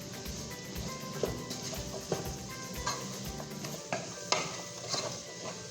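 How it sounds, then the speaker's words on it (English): A spoon stirs clam chowder base with flour in a pot, giving soft scraping strokes and irregular clicks against the metal over a faint bubbling sizzle, close and fairly quiet. "I'm going to keep stirring that up, and then when we come back we'll add our milk"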